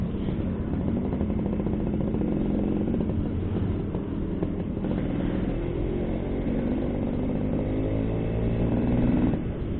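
A 1989 Suzuki A100 100cc motorcycle engine chugs steadily and up close, a continuous clattery putter that rises slightly in pitch near the end, with no talking.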